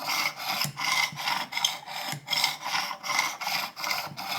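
A rusty single-bevel broadhead is drawn across a 600-grit stone on a Work Sharp Precision Elite sharpener, giving a series of evenly spaced gritty rasping strokes, about eight close passes in a steady rhythm.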